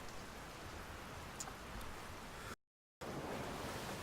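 Steady rain pours in a fantasy role-playing game scene at an inn, a dense, even hiss that carries on without pause, broken by a short silent gap before resuming just as loud.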